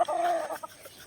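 A 5K sweater gamefowl rooster, a young one bred by its keeper, gives a short close run of clucking calls. The calls come in the first half second and die away into quiet.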